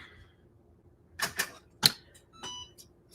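Quilt blocks are trimmed with a cutting tool in a few sharp, separate clicking cuts at close range over a quiet background.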